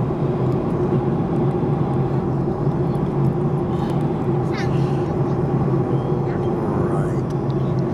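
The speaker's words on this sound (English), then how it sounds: "737 jumbo jet" Steady, loud broadband cabin drone of a Boeing 737 jet airliner in flight, continuous engine and air rush throughout with faint talk in the background.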